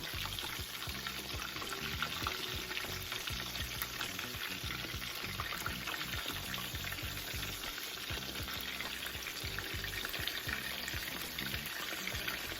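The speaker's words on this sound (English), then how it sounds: "you'll want to cook your wings for at least 12 to 15 minutes or until they are golden brown and crispy" Chicken wings for hot wings deep-frying in oil, a steady dense crackle and bubbling sizzle that holds evenly throughout, fairly quiet and close with no talk.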